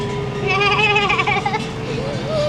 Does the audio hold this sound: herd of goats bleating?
yes